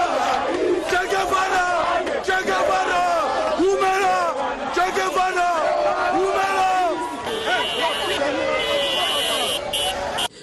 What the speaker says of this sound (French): C'était une ambiance électrique pour cette foule en délire électrisée par le chef de l'État Joseph Kabila Kabange